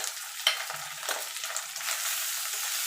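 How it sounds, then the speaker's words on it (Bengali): Basmati rice coated with ghee, ginger and turmeric goes into a hot pan with tempered spices, giving a brisk sizzle that settles into steady frying with stirring scrapes, close and clear with no talk. "এখানে যে চালটা আমি ঘি আদা আর হলুদ মাখিয়ে রেখেছিলাম সেটা দিয়ে দেবো"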